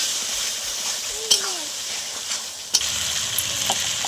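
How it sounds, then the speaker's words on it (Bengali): A spice paste of tomato, green chili and ginger-garlic paste fries in a pan with a steady hissing sizzle, broken by a couple of sharp clanks from a utensil, while a voice speaks briefly over it. "মশলাটা কষিয়ে নেব"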